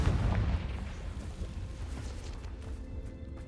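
Hogwarts Legacy's Confringo fire spell bursting with a deep, loud boom at the start, then a rumbling, crackly tail that fades slowly over a few seconds, with no talk over it.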